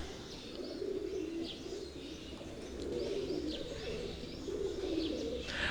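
Pigeons coo softly in repeated low rolling calls, with faint chirps above and a steady background hum, heard at a modest distance.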